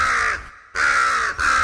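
A raven caws from a played recording, two loud, harsh, drawn-out croaks close to the mic, split by a short gap, with no talk over them.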